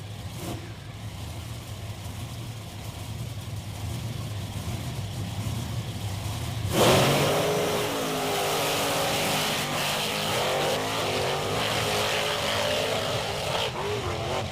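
Engines of 10,000-pound monster trucks, including Bigfoot, idle loudly at a beach racing event, then burst into a roaring launch and stay at a sustained full-throttle drone as the trucks race.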